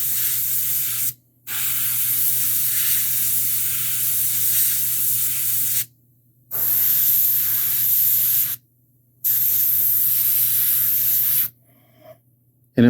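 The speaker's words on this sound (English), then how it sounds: "the overspray kind of gets on stuff and it just darkens it down a little bit" An airbrush sprays a polished metal effect onto a model in several loud, steady hissing bursts separated by brief silences, with no talk.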